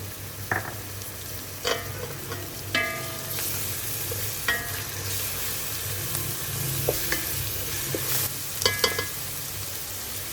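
Steady sizzling and frying of green chillies and garlic paste in a hot pan with occasional scraping stirs and clinks, no speech.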